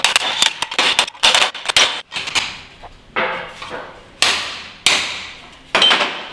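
A metal hammer strikes a turbo exhaust manifold on a high-horsepower LS turbo engine build, a series of sharp, loud ringing clanks, first in quick uneven clusters, then spaced out single blows with short metallic decay, close by.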